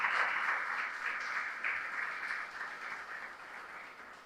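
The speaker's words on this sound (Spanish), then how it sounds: "Denle un fuerte aplauso al Señor." A church congregation applauds, giving dense, sustained clapping that fades gradually over a few seconds.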